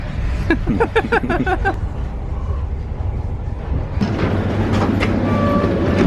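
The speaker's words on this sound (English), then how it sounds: "This train's wobbly." A train rolls along the rails with a steady low rumble, rhythmic clicks and clatter rising and falling, heard from inside the carriage.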